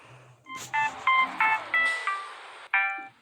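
A telephone rings indoors in a series of bright, tonal electronic chime bursts, several short pulses in quick succession followed by one more after a brief gap.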